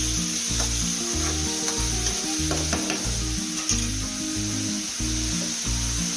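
Onions sauté with salt in a pan, giving a continuous close sizzle with scraping stir strokes over a steady low hum.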